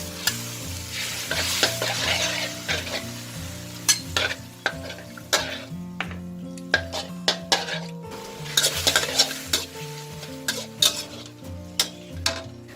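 Pork stir-frying in a pan for stir-fried chayote shoots with pork: steady sizzle with repeated scraping and clanking of a spatula against the pan, close and fairly loud, with no voices.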